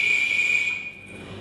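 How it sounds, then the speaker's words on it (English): A referee's whistle blows on a sports field before a game starts, one long steady shrill blast that is close and loud and then cuts off into quiet background. "It's time to blow the whistle."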